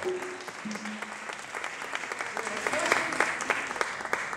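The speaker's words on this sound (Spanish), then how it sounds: "Olga Barmina, un fuerte aplauso, por favor." A live concert audience at MEAM Barcelona applauds steadily, a dense wash of many hands clapping at moderate distance, with a few voices faintly mixed in.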